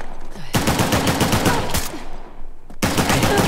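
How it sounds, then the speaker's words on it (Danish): Suppressed gunfire in the video game Uncharted: The Lost Legacy: rapid, loud runs of shots in bursts, with a short lull before another volley. "Det er en silencer."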